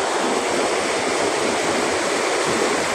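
The strong current of the Madlum river rushes in a loud, dense, unbroken roar of churning water, close and steady throughout with no voices.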